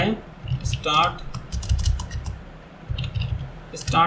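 Code typed on a computer keyboard in bursts of quick, close key clicks separated by short pauses, with someone speaking in between the bursts.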